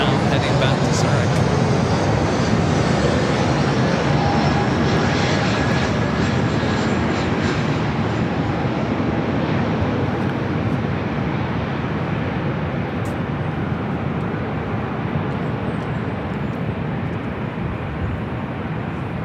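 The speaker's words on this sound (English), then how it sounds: "This is Swiss Flight 41 taking off to Zurich on the 777-300ER." A Swiss Boeing 777-300ER takes off from LAX bound for Zurich, its jet engines a loud, sustained roar that holds steady and slowly eases over the span, with a voice talking over it.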